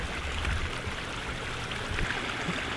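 A backyard pond waterfall running again after its pumps are switched on makes a steady, close rush of falling water. The splashing wash is continuous and even throughout, with no voices.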